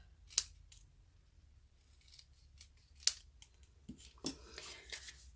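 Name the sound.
paper snips cutting around stamped paper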